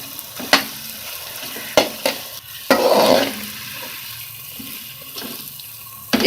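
Capsicum being stirred and fried in masala for aloo shimla mirch sabzi, with sharp spoon scrapes against the pan and a short burst of sizzling partway through, no talking.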